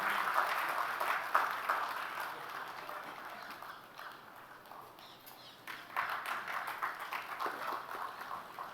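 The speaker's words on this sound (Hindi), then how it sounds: "ज़ोरदार तालियां।" Fairly faint, distant audience applause at a young poets' Hindi poetry competition for a participant named Kinshuk, dipping in the middle and then swelling again.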